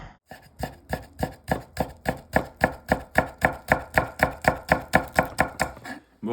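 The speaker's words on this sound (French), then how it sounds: "On vient la tailler de la même façon qu'on a taillé l'oignon" A knife chops a shallot into small pieces on a cutting board. About twenty-five crisp, evenly spaced strokes come close and loud in a steady quick rhythm, with no talking.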